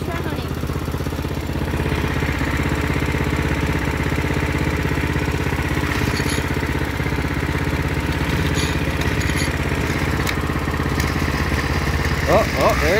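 A go-kart engine runs with a steady, rough mid-pitched drone that stays loud and close throughout, with voices talking over it.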